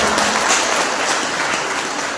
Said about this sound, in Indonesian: mari kita berikan tepukan untuk